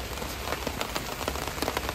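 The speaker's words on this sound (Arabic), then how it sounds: "والله قاعد يزيد المطر." Heavy rain pours down at a bird park in Malaysia, a steady dense patter of drops on surfaces with scattered louder splashes throughout, fairly close and continuous.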